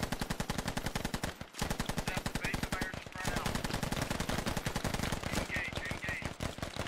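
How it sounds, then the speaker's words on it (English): Sustained automatic machine gun fire in the tactical shooter game Squad, fired in rapid continuous bursts with a brief pause near the start, loud and close throughout. "Keeping up that rate of fire, suppressing them as much as possible"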